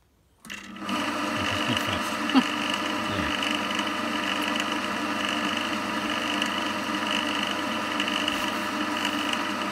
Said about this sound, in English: At the slowest my lathe will go.